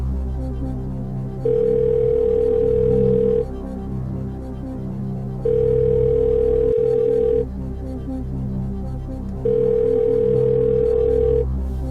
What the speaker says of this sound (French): Je vais appeler mon ami Sylvain